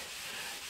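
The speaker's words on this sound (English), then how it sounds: "So you keep sanding and you rinse your paper and your surface often," Steady abrasive wet sanding of fresh paint with sandpaper, a continuous soft hiss with no break.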